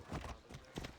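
Horse hooves clip-clopping in Assassin's Creed Odyssey, a few uneven hoofbeats in a short burst over a low game soundscape.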